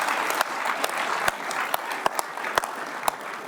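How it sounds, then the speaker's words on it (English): A room full of guests at a luncheon honoring a national championship football team gives a brisk round of applause, with dense clapping and a few sharper claps standing out. "You can give your coach a round of applause."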